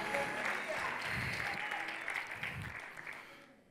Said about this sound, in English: Clap your hands and shout aloud, hallelujah.